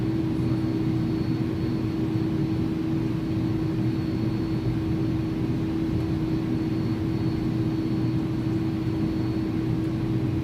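Airbus A310 jet engines in X-Plane 11 hold a steady, loud drone with a prominent constant tone at departure, unbroken for the whole stretch and with no talk.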